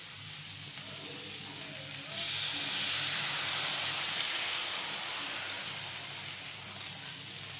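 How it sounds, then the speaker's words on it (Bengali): Water added to a pan of pointed gourd curry sets off a soft hissing sizzle that swells after a couple of seconds and holds steady, fairly faint and close, with no voices. "এখন আমি ঢাকনাটা খুলে নেব, অল্প করে জল দিয়ে দেব।"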